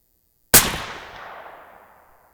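A single sharp, loud rifle shot from a .300 Win Mag firing 230-grain Hornady A-Tip bullets, the crack followed by a long rumbling decay across the range, with no talk.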